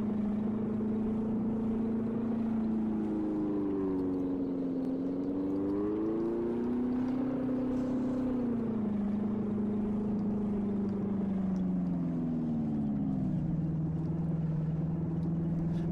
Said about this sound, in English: I love the engine sounds, though.